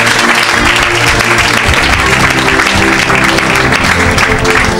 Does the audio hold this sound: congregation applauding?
yes